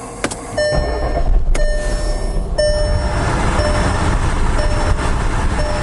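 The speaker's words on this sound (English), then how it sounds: "So the next thing you want to do is start your car." A Volkswagen Golf Alltrack is started, with a couple of sharp clicks followed by the engine catching and settling into a loud, steady idle, and dashboard chimes repeating over the running engine.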